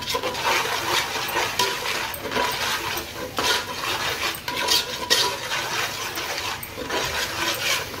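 Pav bhaji being stirred with butter in a large pan, a dish made for fifty people: a steady, busy scraping and sizzling texture with irregular clinks and sharper scrapes of a spoon against the pan throughout.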